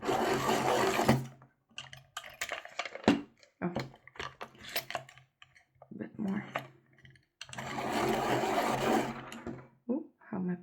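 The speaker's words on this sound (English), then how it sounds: "Again, I'm going to insert it into the sharpener." A pastel pencil ground in a pastel sharpener gives two bursts of close whirring and grinding, between them scattered clicks and handling taps as someone briefly speaks.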